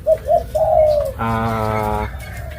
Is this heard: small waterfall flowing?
no